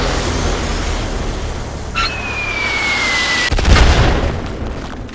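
A bomb explodes in the Worms W.M.D video game: a loud, deep boom bursts over a dense, steady game soundscape, with a falling whistle just before it and a rumbling tail after.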